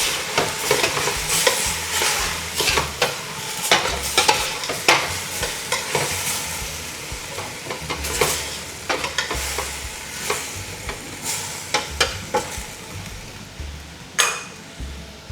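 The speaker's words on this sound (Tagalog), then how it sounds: "let's give it a mix." Spatula scraping and stirring sautéed bitter gourd (ampalaya) in a pan, with repeated sharp scrapes and clinks over a steady background sizzle, close and fairly loud, no talking.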